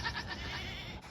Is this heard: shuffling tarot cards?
no